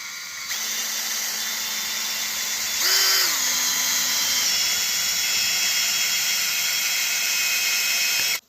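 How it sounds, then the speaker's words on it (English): A handheld electric drill boring a hole, with a steady motor whine that rises briefly as the bit bites in, then runs on evenly for several seconds before cutting off abruptly. "I'm going to use my hand drill here"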